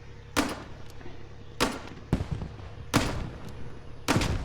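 Underbarrel grenade launcher on the Turkish faction in the game Squad fires at ruins, five sharp loud bursts spaced about a second apart, each followed by a short echoing tail over a low background hum.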